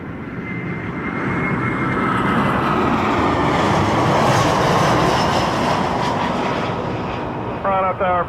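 An airliner at Toronto Pearson airport passes with a loud, sustained jet roar that builds and then fades slightly, with brief radio chatter at the end.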